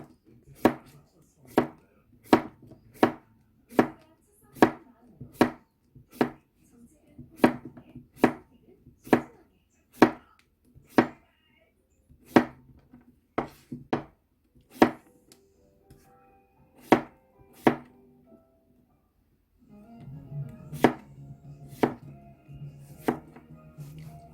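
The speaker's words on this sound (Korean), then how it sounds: "적당한 크기로 이렇게 동그랗게 이런 식으로 썰어주세요" A knife slices cucumber into rounds on a board in sharp, evenly spaced chops, near and distinct, with a short pause before a final few cuts over a faint background.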